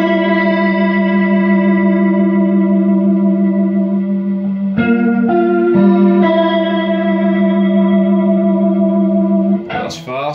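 Electric guitar through a Leslie rotating speaker spinning fast, with warbling chorus-like modulation on sustained notes and chord changes, loud and close, played alone.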